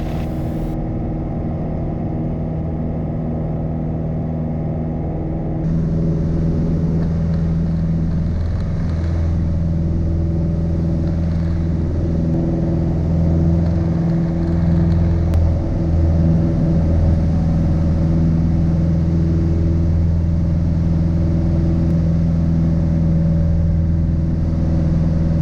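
Piper Warrior single-engine light aircraft departing a runway, its engine a steady loud droning rumble throughout, with a brief higher-pitched change early on and no talk.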